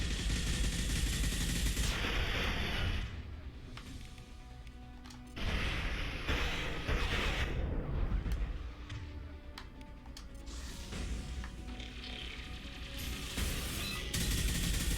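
Rapid bursts of gunfire from a weapon fired at a wall in Mass Effect 2, loud sustained volleys broken by short pauses and then resuming, with no talking.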